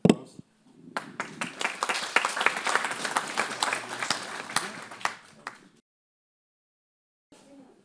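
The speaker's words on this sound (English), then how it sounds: "Maybe for a round of applause." Conference audience applauding after a talk, a dense burst of clapping lasting about five seconds before stopping abruptly, with a faint voice returning near the end.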